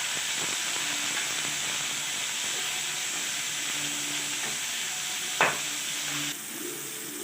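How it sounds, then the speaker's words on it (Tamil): Onions and tomatoes sautéing in a pan make a soft, steady sizzle and hiss with faint scraping, then a single sharp clink near the end before the sound drops slightly quieter. "வெங்காயம், தக்காளி வதங்கி வந்திருக்கு."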